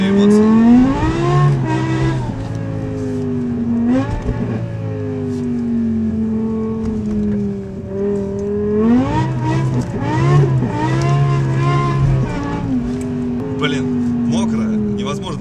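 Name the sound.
BMW M5 E60 engine revving while driving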